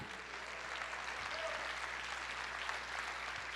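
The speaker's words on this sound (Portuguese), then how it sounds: "Aplauda, Senhor." A church congregation applauds together, a faint, steady wash of many hands clapping at a distance, continuous and even throughout.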